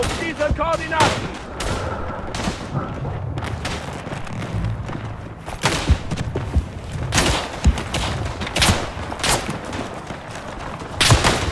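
Artillery shells and gunfire pound a battlefield in the World War I video game Tannenberg, with repeated heavy booms and rattling shots scattered throughout and a voice briefly talking among the blasts.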